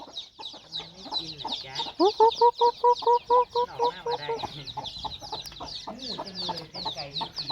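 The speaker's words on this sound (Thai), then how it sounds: "นี่คือไก่ให้คุณแม่จ้า" Chickens cluck nearby at a rural Thai home, with a burst of evenly spaced, rapid clucks in the middle and looser clucking and scratchy background noise around it.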